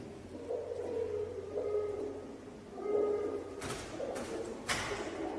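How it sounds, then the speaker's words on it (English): A pigeon coos inside an abandoned building, with several low, soft, rhythmic hoots repeating at a middle distance, followed by a few sharp bumps or rustles near the end. "Is that a pigeon?"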